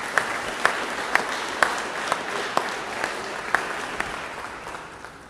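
Church congregation clapping hands in praise, a sustained wash of applause with sharper individual claps standing out every half second or so, fading slightly toward the end, no voices over it.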